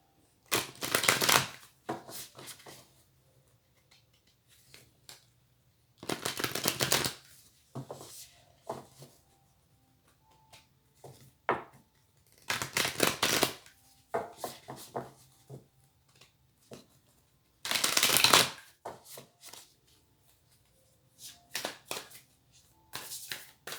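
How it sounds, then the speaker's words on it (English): Moonology oracle cards are shuffled close by in four or five distinct riffling bursts, separated by quieter pauses with light handling and card taps. "I'll go ahead and do some Moonology cards."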